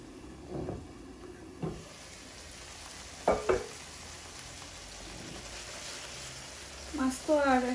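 Hilsa fish cooking in yellow mustard paste in a covered pan, a soft steady sizzle with occasional stirring clatter and utensil knocks, heard close and moderately quiet.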